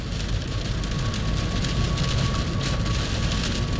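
Steady, heavy rain pours down in a dense, even wash of noise across the whole stretch, close and loud with no voices.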